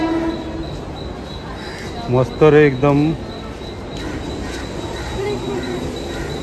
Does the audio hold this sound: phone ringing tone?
no